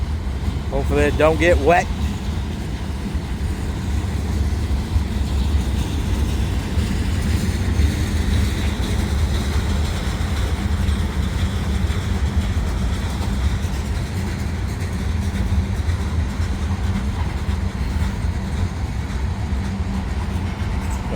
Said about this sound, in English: look it up here in a minute when this train passes